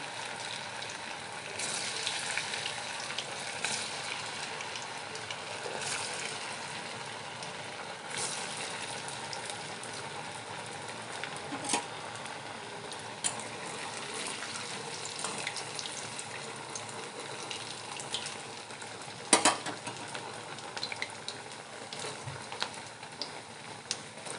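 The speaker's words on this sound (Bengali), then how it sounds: "হালকা আঁচে ভাজতে হবে।" Semolina and potato snacks frying gently in oil over low heat, a soft, steady sizzle with faint crackles and occasional louder pops, quiet and even from start to finish.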